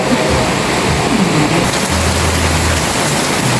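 Steady, dense hiss of rain falling, constant and fairly loud throughout, with no voices.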